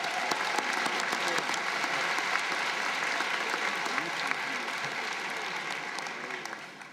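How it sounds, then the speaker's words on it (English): New students applaud at an honors convocation at Christopher Newport University, a dense and sustained wash of crowd clapping that fades slowly toward the end. "Give yourselves a round of applause."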